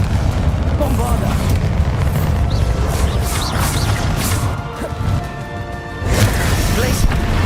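A Bombarda spell explosion in a video game lands as a loud, booming blast with crashing debris, followed by a second heavy impact near the end, while a voice talks over it.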